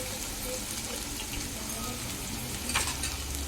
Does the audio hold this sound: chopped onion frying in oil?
yes